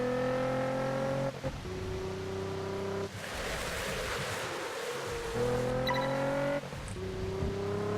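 Car engine in the racing game Test Drive Unlimited 2, a steady near hum that rises in pitch as it revs up, with a couple of brief gear-change dips and a burst of rushing noise in the middle.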